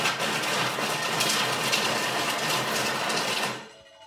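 A Thermomix TM6 blending vegetable lasagne ingredients at speed 5 for about five seconds, a loud, dense whirring roar that holds steady and then winds down and stops, close by.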